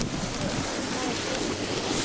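Wind blowing snow across a mountain summit at Breckenridge, Colorado, a constant rushing roar buffeting the microphone.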